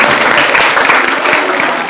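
Loud, dense clapping from a studio audience on a Telugu TV game show, congratulating the runner-up team; continuous and close, with no voices over it.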